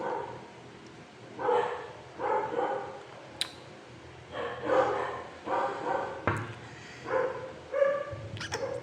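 A dog barks repeatedly at a distance, in short bursts of two or three yaps separated by pauses, mixed with a few whimpering yips, alone with no speech.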